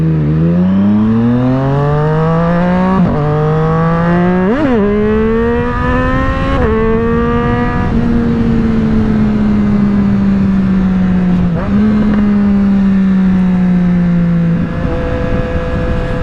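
A Triumph Street Triple 765R with an SC Project exhaust revs up close and loud, its three-cylinder note climbing and falling through repeated blips and a long sustained hold, with no voices.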